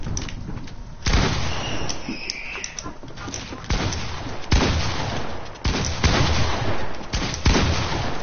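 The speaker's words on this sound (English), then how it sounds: "I shot him." Several sharp gunshot cracks ring out at intervals over a continuous rumbling, crackling background, loud and close.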